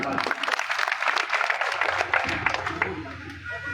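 An audience applauds a speaker at a political rally in Kishanganj, Bihar, with brisk, dense clapping that thins out toward the end.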